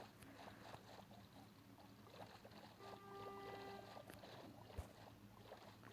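Quiet splashing and lapping water with a faint engine-like drone as a boat moves across water in Minecraft, with a few soft tonal beeps midway.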